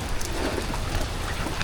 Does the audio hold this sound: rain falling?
yes